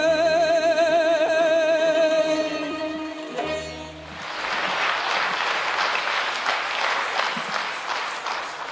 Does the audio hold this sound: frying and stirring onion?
no